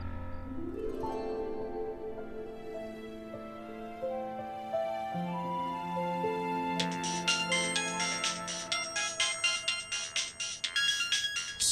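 A phone ringtone plays for Suman's incoming call, a bright melodic tune with sustained tones that swells and grows busier and louder toward the end, with no one speaking over it.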